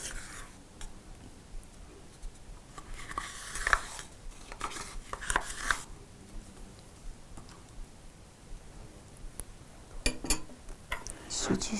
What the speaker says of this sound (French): Ensuite, je vais mélanger tout.